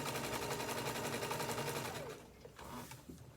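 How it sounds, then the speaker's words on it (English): Sewing machine stitching sublimation project pieces, a loud steady rapid needle chatter for about two seconds, then stopping, followed by a few softer handling clicks and rustles. "I'll just keep sewing them."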